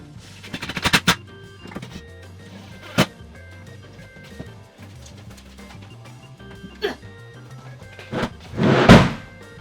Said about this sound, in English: drive the final bottom screws